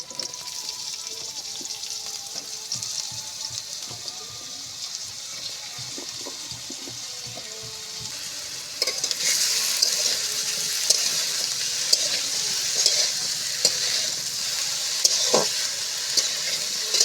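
Eggplant pieces sizzle in hot oil while a utensil stirs and scrapes the pan in irregular strokes, the frying hiss swelling louder partway through.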